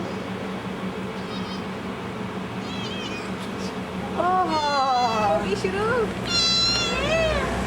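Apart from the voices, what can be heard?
cat meowing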